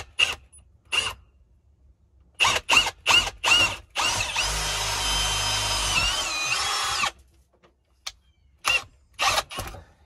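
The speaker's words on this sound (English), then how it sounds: "we take our trusty pilot drill. It's a small little bit. And we will drill up." A small power drill with a pilot bit whirs for about three seconds in one continuous run, drilling upward toward the roof while installing a stove gas valve box, preceded and followed by short clicks and brief tool bursts, close by.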